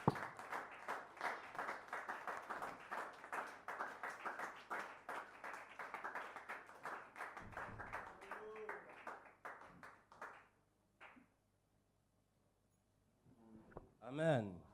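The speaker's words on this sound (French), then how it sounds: "Est-ce qu'on peut lui donner une main d'acclamation?" A church congregation claps and applauds steadily for about ten seconds, a dense patter of many hands that trails off into near silence, followed by a short burst of sound at the end.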